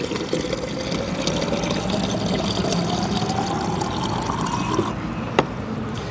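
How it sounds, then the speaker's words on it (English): Water streams from a Flow purified water station into a bottle at a busy gaming convention, a steady pour whose pitch rises as the bottle fills, ending with a sharp click. "I am going to fill this up at a water stations."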